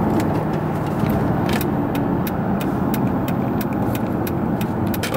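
A 2009 Mercedes-Benz S63 AMG W221 under way, its deep engine drone and road rumble steady and close from inside the cabin, with repeated light ticking and clicking sounds over the top.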